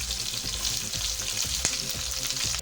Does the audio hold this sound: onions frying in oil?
yes